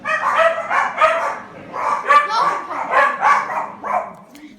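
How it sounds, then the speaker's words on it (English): Four pet dogs bark indoors in a home, close and loud, in quick overlapping bursts of yaps and barks with short gaps between them. "We're sorry about the dogs."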